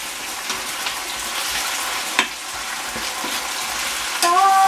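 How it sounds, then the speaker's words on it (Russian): Potatoes frying in a home kitchen pan give a steady, close, fairly loud sizzling hiss that runs throughout, with a few faint clicks and a brief metallic ring near the end. "Поставила мужу картошку жарить."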